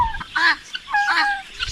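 A farm turkey gobbles twice in quick succession, loud and close, its warbling calls clear with no talk.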